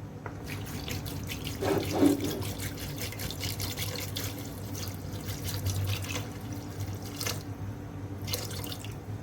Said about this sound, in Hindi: पानी इसमें ऐड करूँगी मैं।